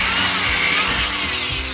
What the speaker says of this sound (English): you're just going to just drill hundreds of holes, 1/8 inch holes, in the bottom of one of these 6-gallon buckets